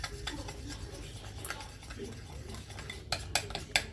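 A spoon scrapes and clinks in a bowl while icing sugar is stirred into a mixture for a homemade mille-feuille, with soft rhythmic scraping and a few sharper taps near the end.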